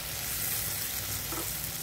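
A cashew and onion paste for malai kofta gravy fries over a low flame, giving a steady, even sizzle that holds throughout at moderate loudness with no voices.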